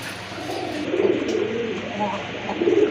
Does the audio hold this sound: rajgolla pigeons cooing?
yes